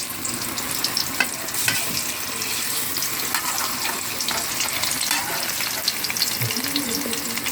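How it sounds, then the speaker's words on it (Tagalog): Tofu frying in a pan gives a loud, busy sizzle with bursts of spattering oil and occasional stirring knocks, continuous and close, with no speech. "Ganito yung ginagawa ko guys pagka may tokwa, piniprito ko siya."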